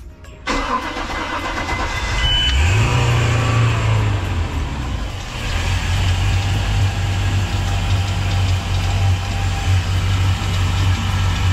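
A boat engine cranks and catches after its first test start of the year, then settles into a loud, steady idle that runs high right away, heard up close with no talking.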